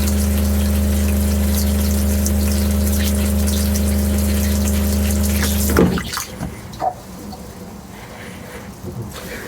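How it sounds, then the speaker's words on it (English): An Alto R1713 RV toilet bowl flushes with antifreeze during winterization, a loud steady water pump hum with rushing liquid that cuts off abruptly partway through, leaving a few gurgles and splashes in the bowl. "Now we're going to run the bowl and let that flush for a good 10 seconds"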